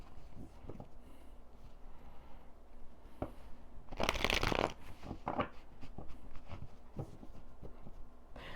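Tarot cards being shuffled by hand in a quiet room, a close riffling flurry with a louder burst near the middle and scattered soft card taps around it.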